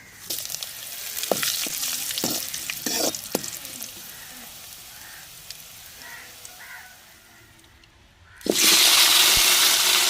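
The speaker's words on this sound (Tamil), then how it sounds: "எண்ணெய் சூடாயிருச்சுங்க, கடுகு உளுந்து போட்டுக்கிறோம்." Mustard seeds and urad dal frying in hot oil in a home kitchen, giving a steady sizzle with scattered sharp crackles and pops, then a sudden, much louder hissing surge near the end.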